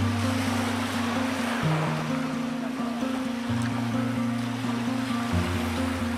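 Ocean waves wash steadily onto Pantai Cenang beach on Langkawi, a continuous broad surf roar with low droning tones layered underneath and no voices.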